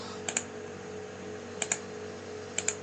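Typing on a computer keyboard: three pairs of crisp double key clicks spaced about a second apart, faint over a steady low hum.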